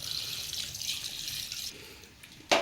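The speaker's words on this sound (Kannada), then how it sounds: "ಈಗ ಸ್ವಲ್ಪ ನಾನು ನೀರು ಹಾಕ್ತಾಯಿದ್ದೀನಿ." Water poured from close by into a pan of ground masala and partly cooked fenugreek chicken fry, a steady soft trickle that thins out, ending in a short sharp clatter.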